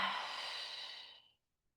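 A long, steady exhale through the body during a chakra yoga session, a soft breathy rush that fades out over about a second, close and quiet, followed by silence.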